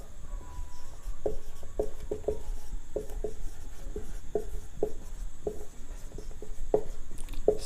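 Chalk or marker strokes writing two lines on a classroom board during a Hindi-medium chemistry lesson, a series of short scratchy strokes in uneven rhythm, close and fairly soft over a steady room hum.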